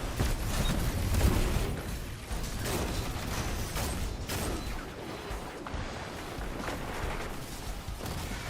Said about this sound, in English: the reload on this goddamn hand cannon is atrocious